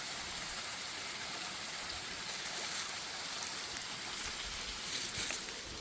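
Spring-fed waterfall in the Mammoth Cave area after heavy rain, a steady broadband rush of falling water, fairly faint and continuous with no voices.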